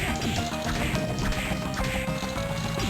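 Crow attack from Castlevania: Aria of Sorrow, a rapid flurry of squawking, quacking caws and smacking hits packed densely together, loud and continuous against game music.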